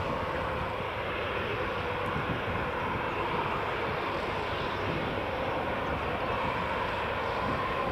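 An EasyJet airliner landing at Edinburgh Airport gives a continuous loud, broadband jet engine roar that holds steady throughout, with no talking.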